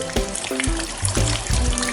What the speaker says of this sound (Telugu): వెంటనే భారీ వర్షం.